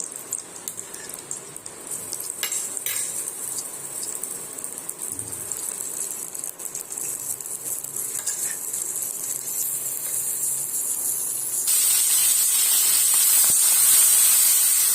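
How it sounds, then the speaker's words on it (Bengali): Prawns frying in oil in a wok give a steady, fairly loud hiss and sizzle throughout, with light rattles and spatter, growing brighter and more intense in the final few seconds. "হালকা করে চিংড়ি মাছগুলো ভেজে নেব"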